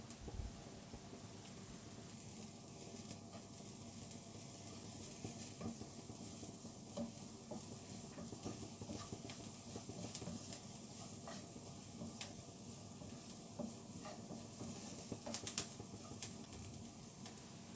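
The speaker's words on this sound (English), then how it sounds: "Now I am adding ground spices. Fry them about 10 to 20 seconds until get nice toasted spice smell." Ground spices fry in a pan while being stirred, a steady close sizzle with scraping and ticking stir noises running continuously for the whole stretch, no talk over it.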